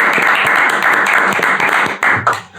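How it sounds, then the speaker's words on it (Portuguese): Steady applause from a crowd, dense and continuous clapping that fades slightly toward the end. "Aplauso!"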